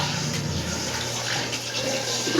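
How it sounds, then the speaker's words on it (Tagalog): Running water splashes steadily from a tap while plates are rinsed in a bathroom, a continuous close hiss and patter with faint clinks and no talk. "Bugas ako ng plato dito sa CR kasi barado yung aming lababo."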